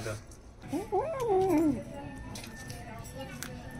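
A house cat meows once, a clear, drawn-out rising and falling call close by, followed by quieter background household noise.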